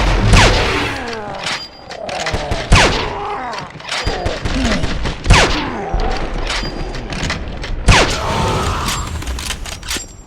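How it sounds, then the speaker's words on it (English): Gunfire in the Wolfenstein video game, with repeated sharp shots and booms in quick bursts amid a busy, loud battle mix, with game voices shouting over the shooting. "He's suppressing fire!"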